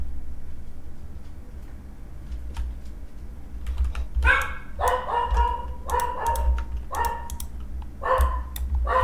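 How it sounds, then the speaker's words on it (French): A pet dog barks and yips in repeated sharp bursts, fairly close, during a hardcore survival game session, over steady computer keyboard typing and low background hum. "Mon chien arrête pas de japper en plus."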